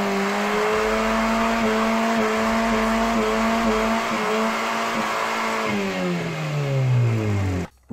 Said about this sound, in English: Rip up that e-brake and let your tires smoke.